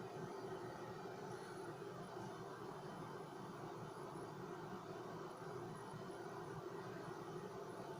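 An electric fan heater blows warm air at an increased speed, giving a steady, even rush of broadband airflow noise with no pauses and no voices, close and moderately loud throughout.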